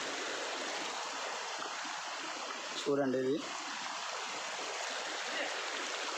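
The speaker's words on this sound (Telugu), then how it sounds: "కొండల నుంచి కూడా వాటర్ వస్తుంది" Rainwater runs down from the hills as a stream through a dense forest during heavy rains, giving a steady, full rushing hiss throughout while someone speaks briefly in the middle.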